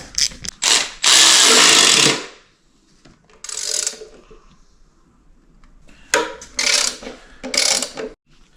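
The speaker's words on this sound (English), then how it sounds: "I'm torquing these oil pan bolts, these little 5/16 to 15 foot-pounds" Ratcheting torque wrench clicking in bursts as it tightens small 5/16 oil pan bolts on an Oldsmobile 400 engine, loud and close with short pauses between pulls.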